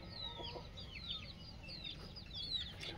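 Faint Aseel chicken clucks and chirps repeat through a steady background noise on a free-range poultry farm, fairly distant and low in volume.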